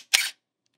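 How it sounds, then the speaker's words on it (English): A single short mechanical shutter release from a Canon A-1 35mm film camera, a quick crisp clack heard close and alone against silence. "But then when you listen to the shutter,"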